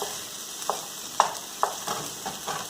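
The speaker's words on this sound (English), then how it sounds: "so now I'm just going to add my ground beef, and I'm going to break that up" Ground beef cooks in a pan with translucent onions, frying softly under a steady sizzle while a utensil breaks it up, giving several distinct scraping knocks at an irregular pace.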